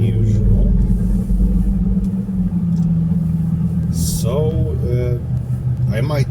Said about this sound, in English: today we are driving a bit further than usual